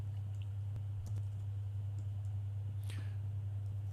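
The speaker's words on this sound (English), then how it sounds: "Every time I hear you typing, I want to stop and check the chat." Soft clicking of a computer keyboard being typed on, irregular taps in the background over a steady low electrical hum, with no talking.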